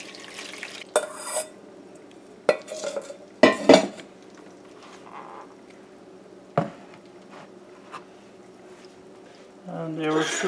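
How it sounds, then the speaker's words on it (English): Halwa masala mixture handled in a pot with a metal spoon, sparse sharp clinks and scrapes of cutlery against the vessel scattered over quiet gaps, with a person talking near the end. "Molly's mom is now going to strain this"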